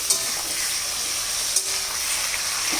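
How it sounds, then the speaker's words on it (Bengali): Meat added to a hot pan for a spiced dish, giving a steady, dense sizzle with brief stirring scrapes, close up and continuous. "এবার মাংসটা দেওয়া হচ্ছে।"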